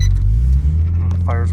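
A 1999 Nissan Skyline GTT engine starts and settles into a steady, close, rumbling idle.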